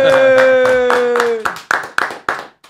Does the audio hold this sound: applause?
yes